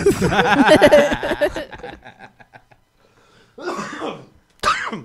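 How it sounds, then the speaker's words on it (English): A person clears their throat and coughs a few times close up, with short bursts separated by quiet pauses. "Now I'm Come here, coughing."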